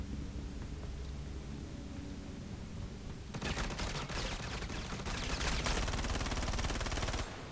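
Gunfire in Star Citizen's first-person combat: quiet ambience at first, then sudden loud rapid automatic bursts that continue densely to the end.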